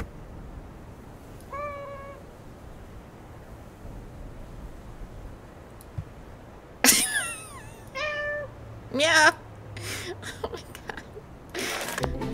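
Cat meows from the Little Inferno video game, the creature burning in the fireplace during a kitty combo: several short, rising meows and yowls over a low steady hum, with louder crackling bursts later and no talking.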